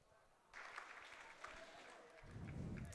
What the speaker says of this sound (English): Fisk getting a nice round of applause from this classy Vancouver crowd.